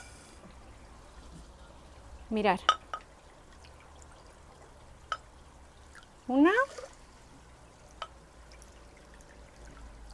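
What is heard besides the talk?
water poured into a saucepan with oat flakes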